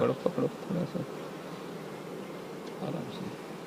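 Honey bees buzz around an open hive on a bee farm while a man handles the frames, a steady insect hum running beneath brief speech.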